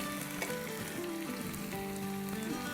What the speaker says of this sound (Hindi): तो बस चिकन को हम अराउंड 2-3 मिनट फ्राई करेंगे